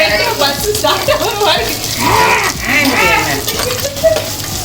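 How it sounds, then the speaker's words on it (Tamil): Onions sautéing in a pan for mutton gravy, a low sizzle with scraping stirs, heard under ongoing close talk from several people. "வெங்காயம் வதங்கிட்டு இருக்கு."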